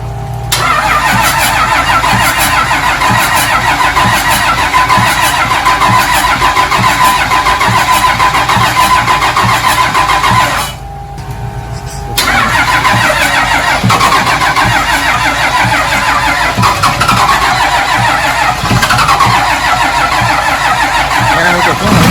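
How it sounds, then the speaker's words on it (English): A twin-turbo Ram 2500 truck engine with an exhaust leak runs loud and steady close by, with a rough, raspy exhaust note and a short dip in the noise partway through. "Got an exhaust leak."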